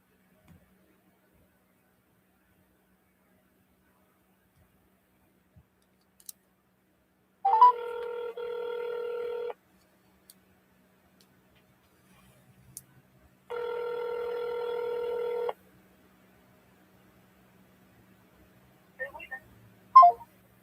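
Telephone ringback tone while calling back a real estate lead: two long, even rings separated by silence, with a few faint clicks and a short noise burst near the end.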